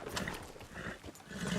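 Horse hooves clip-clopping in the video game Red Dead Redemption 2, a quick irregular run of soft hoof beats, faint and close, with no voices.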